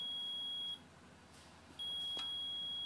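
Multimeter continuity beeps while probing an AC compressor's leads: two steady, clear electronic tones, each lasting under a second, separated by a short gap, with faint clicks from the probes.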